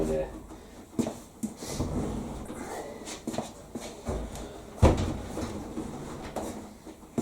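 An integrated Indesit washing machine door is pushed and knocked in a kitchen, giving a series of sharp clunks and rattles, one heavier thud near the end, with faint background noise.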